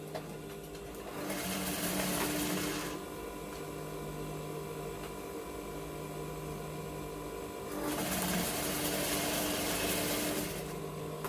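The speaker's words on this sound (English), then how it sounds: "So you are going to sew it down. So I'm sewing it down." A sewing machine sews fabric down on a butterfly boubou garment, with two faint bursts of whirring stitching separated by a long, quieter stretch of low mechanical hum.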